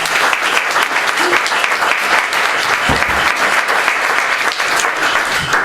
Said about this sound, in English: so perhaps we could give them a round of applause